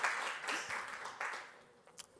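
Audience applause at a policy talk on Michigan school funding and economic equity, a brief, soft wash of clapping from a fairly distant crowd that fades out within a couple of seconds.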